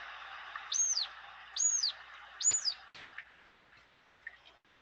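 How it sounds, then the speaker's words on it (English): A recorded harrier call: three rising-and-falling high whistled notes evenly spaced about a second apart, followed by a fainter short note, clear against a quiet background. "So that is one vocalization that the harriers make."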